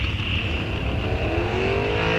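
Drag racing cars, one a Mopar, launching from the start line at Rock Falls Raceway during an NHRA state championship, a loud roaring engine blast with a rising whine as revs climb, no voices.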